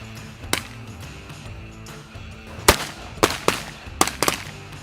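Shotgun blasts on a duck hunt in Alberta ranch land: a single sharp report, then a rapid volley of five or six loud, close shots in two clusters over steady outdoor background.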